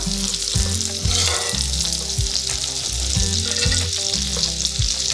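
Bacon cheeseburgers fry in a Staub cast iron skillet with melting butter, a loud, steady close sizzle with crackling pops and intermittent low scraping as butter is spooned over them.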